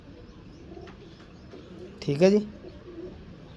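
Pigeons coo at close range, a single short burst of rolling, throaty cooing rising over a quiet background, with someone speaking briefly nearby.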